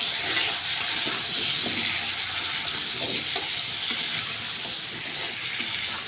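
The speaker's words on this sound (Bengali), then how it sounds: "তাই আমি আলাদা কড়াইতে আবার সবজিগুলোকে ভেজে নিচ্ছি।" Vegetables fry in a separate, 25-year-old wok after salt and turmeric go in, producing a loud, continuous close-up sizzle with scattered stirring scrapes and no talking.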